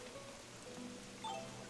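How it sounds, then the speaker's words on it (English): Steady rainfall on an island in Animal Crossing: New Horizons, a soft, continuous hiss of drops, faint and unbroken, with a few light game chimes over it. "we've arrived on this really rainy island"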